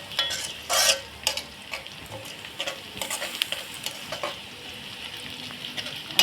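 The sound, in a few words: whole garam masala spices frying and being stirred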